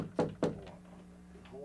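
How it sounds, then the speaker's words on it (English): Two firm knocks land on a door nearby in quick succession, followed by a quiet room hum. "Hold on, someone's on the door."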